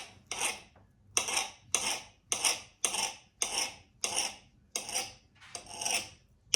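Bananas being sliced with a knife on a board, about ten crisp even cuts in a steady rhythm, close and clear with no talking.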